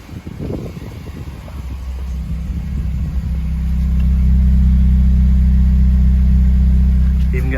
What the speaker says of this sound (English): Even getting a normal sound out the exhaust, so it's not sounding like a go-kart anymore.